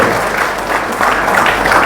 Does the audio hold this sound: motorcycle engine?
no